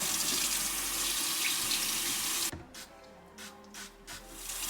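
Tap water runs steadily into a sink while spa equipment is washed with soap, then cuts off, followed by a few soft rubbing and splashing sounds in a quiet esthetician's room.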